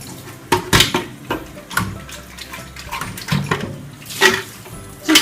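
Water runs and splashes in bursts as a Keurig coffee maker's reservoir is refilled at a sink, with intermittent gushes and clatters of the plastic tank rather than a steady stream.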